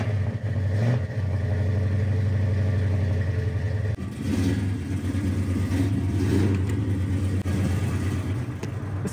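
A 1970 Chevelle V8 engine rumbles at idle nearby, deep and steady, with occasional blips of the throttle adding brief surges.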